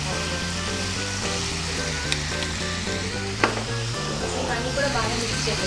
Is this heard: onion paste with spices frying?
yes